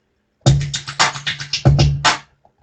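A trap percussion pattern plays back in Studio One as a rapid string of crisp, punchy hits with a low tonal thump under several of them, cut into two quick bursts before stopping.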